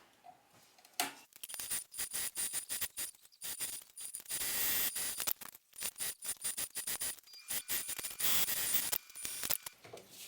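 A sewing machine stitches down bag straps in quick bursts of rapid mechanical ticking and whirring, starting and stopping repeatedly with short pauses between runs, close and fairly loud.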